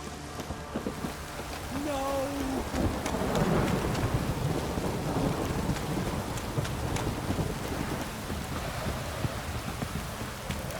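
Steady rain with rumbling thunder fills a stormy scene in The Witcher 3, dense and continuous, with a brief low tonal swell near the start.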